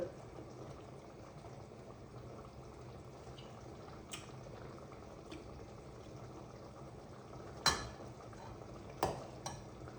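A grape pickle mixture bubbles in a pot with a faint, steady simmer, broken by a few louder isolated clinks or drips near the end.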